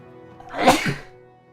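A single sharp human sneeze, close and fairly loud, with a breathy burst that fades quickly in an otherwise quiet space.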